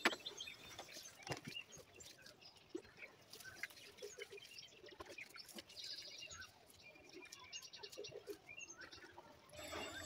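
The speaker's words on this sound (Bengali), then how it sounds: "ছাদে এলে এত সুন্দর পাখির আওয়াজগুলো পাই না," Many small birds chirp and tweet steadily around a rooftop, a busy mix of near and distant calls running throughout with no one talking.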